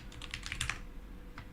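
Computer keyboard typing in a home setup: a short burst of about eight quick, crisp key clicks in an uneven rhythm over roughly a second, then a single faint click after a pause, close and fairly quiet.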